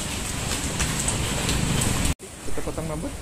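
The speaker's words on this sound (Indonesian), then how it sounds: "Hujan." Steady rain hisses loudly on a surface close by in a home setting, with a brief dropout near the end and faint voices underneath.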